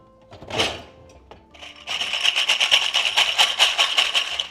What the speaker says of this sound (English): That noise you hear, those are all the jars.